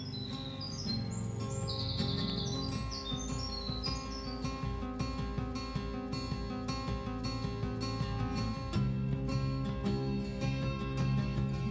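Birds chirp and trill along a June hiking trail to Andrews Bald in the Smoky Mountains, with a bright burst of calls early on over a steady background of insect-like buzzing.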